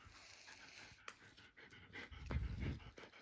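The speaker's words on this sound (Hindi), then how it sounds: "मेरा हाथ खा रहा है कुत्ता" A pet dog pants close by in a home, a soft rapid rhythmic breathing that swells louder toward the end, with no talk over it.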